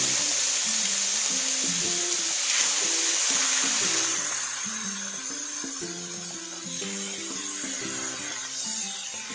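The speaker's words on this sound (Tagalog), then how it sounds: "Mag-isa na tayo mag-prito ng ating beef liver." Beef liver frying in a pan, a steady close hiss of sizzling oil that runs throughout and eases slightly partway, with faint kitchen clatter and music playing underneath.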